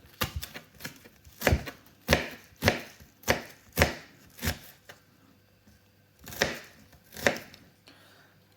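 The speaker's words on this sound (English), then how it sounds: "you just chop them up" Knife chopping onions on a board for a pea and ham soup, a run of crisp, close, evenly spaced chops, then a short pause and a few more strokes.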